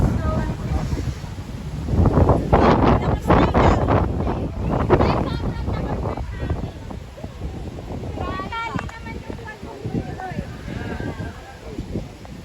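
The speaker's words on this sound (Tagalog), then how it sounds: "Ang ganda, lakas ng hangin." Strong gusts in Tagaytay buffet the microphone with loud, rumbling wind noise, while people talk nearby throughout.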